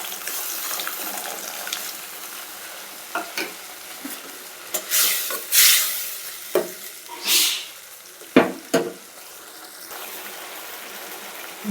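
Spinach frying in a pan for palak dal khichdi is stirred with a spatula. Soft sizzling runs underneath, with several loud, scraping stirring swishes spaced a second or two apart, close up.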